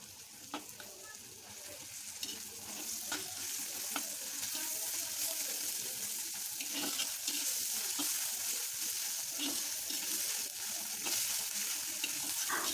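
Onion fried red, now frying with ginger, garlic and green chilli paste for a thin meat curry cooked in a clay pot, giving a steady sizzle with occasional stirring scrapes throughout, no talking.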